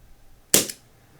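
A single sharp pop from a Bug-A-Salt Shred-Er CO2-powered salt gun fired at a bug from about a foot and a half, a loud snappy crack with a brief hiss tail, isolated against quiet.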